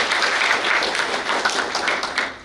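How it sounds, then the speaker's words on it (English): An audience at a community talk on parks and inclusion applauds a sponsor, a dense, steady wash of clapping from many hands that holds for a couple of seconds and then begins to taper. "Let's give them a round of applause."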